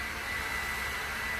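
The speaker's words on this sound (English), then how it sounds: "my neighbor is basically using his blower and blowing a whole bunch of grass into the street" A neighbor's leaf blower blowing grass into the street makes a steady, loud, breathy engine roar with a whining high tone, continuous and unbroken with no voices.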